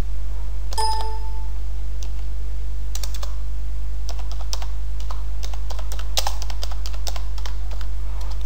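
Close, steady clicking of a computer keyboard as a radio station name is typed, with irregular bursts of keystrokes over a constant low electrical hum and a brief ringing chime near the start.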